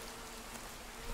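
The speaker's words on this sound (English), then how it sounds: "I hear some bees" Bees buzz in the Blacktail video game, a faint steady insect drone under a soft, continuous noise bed with no talking.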